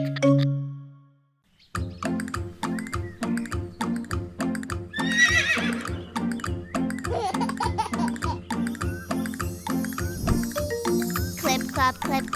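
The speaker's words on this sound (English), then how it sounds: "Clip clop. Up now, little horsey." Horse neighing, then steady rhythmic hoof clip-clops with bell-like jingles in a children's animal puppet song, the hooves continuing at an even pace through the music.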